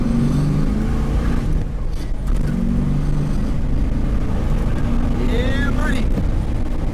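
1969 Super Cobra Jet Mustang Fastback accelerating from inside the car, its V8 rumbling deep and loud under continuous road noise while a voice speaks over it.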